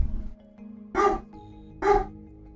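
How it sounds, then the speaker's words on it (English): Two loud, close dog barks ring out about a second apart over a low background hum, with no one talking. "This intermission brought to you by dogs barking."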